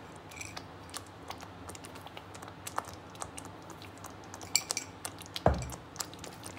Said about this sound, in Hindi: इन सबको अच्छे से मिक्स करेंगे